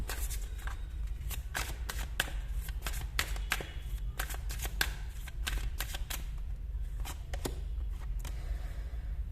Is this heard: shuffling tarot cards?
yes